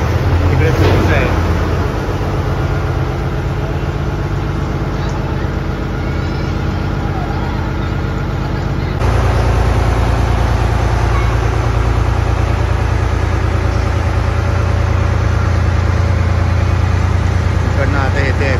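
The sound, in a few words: ferry boat engine running on Goa river crossing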